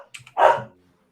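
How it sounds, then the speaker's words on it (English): Dogs barking: a couple of faint, quick yips lead into one louder, sharp bark that fades out fast, with no voices. "Dogs."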